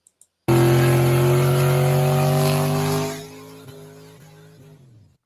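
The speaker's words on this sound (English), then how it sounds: "here's the challenge of burnouts for distance" A car doing a burnout roars loudly at high, steady revs for a few seconds, then the engine note drops away and settles to a lower idle with brief fading pulses.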